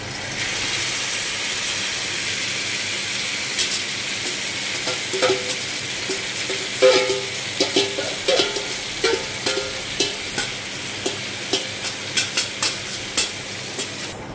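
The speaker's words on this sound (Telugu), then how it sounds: "దీంట్లో చికెన్ వేస్తున్నాను చికెన్ వేసి కలుపుతున్నాను" Chicken is stirred into browned onions in a pan, giving a steady sizzle with a run of rhythmic scraping clicks from a spoon against the pan, close and clear with no talking.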